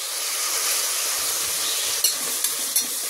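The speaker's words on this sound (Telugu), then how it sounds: "ఒక్క బిర్యానీ ఆకు, 2 యాలకులు వేయించుకొని కొద్దిగా అల్లం వెల్లుల్లి పేస్ట్ వేసుకుందాం" Bay leaf, cardamom and ginger garlic paste fry in hot oil, giving a steady close hiss and sizzle, broken near the end by three quick sharp crackling pops.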